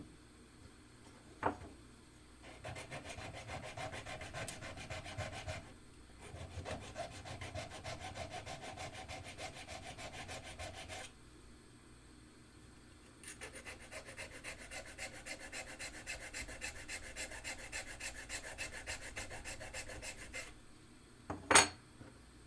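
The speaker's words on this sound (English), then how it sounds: "Okay, so this does need a bit more filing, so you can see." A small piece is filed by hand, producing long stretches of rapid back-and-forth rasping strokes separated by pauses, with a couple of sharp knocks at the start and end.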